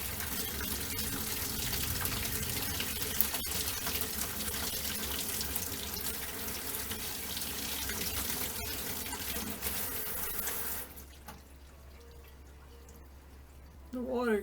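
Tap water runs steadily into a sink as paint brushes are rinsed under cold water, a continuous close gush with some speech over it, then the flow stops near the end, leaving a quieter room.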